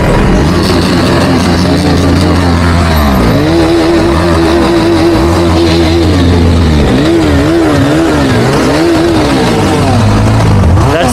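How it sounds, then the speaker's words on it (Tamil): A Bajaj Pulsar NS400Z motorcycle revving hard and loud close by, its engine note rising and falling through repeated throttle blips while the exhaust roars continuously. "That's exhaust note after a long time."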